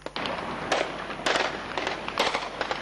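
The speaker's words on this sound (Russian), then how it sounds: "Замечу, стрельба ведется боевая." Live gunfire during military exercises in Dudinka, sharp cracking shots in irregular bursts, several loud reports close together over a dense, noisy outdoor background, with no talking.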